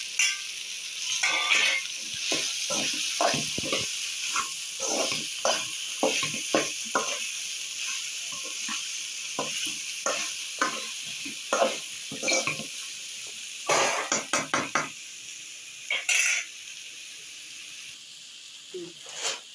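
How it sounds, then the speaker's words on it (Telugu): Ivy gourd and okra fry together in a pan, giving a continuous soft sizzle with frequent scraping and clacking strokes as a spatula stirs and turns them, busiest at first, then sparser. "ఇప్పుడు దొండకాయలు వేగిన తర్వాత బెండకాయలు కూడా వేసేద్దాం"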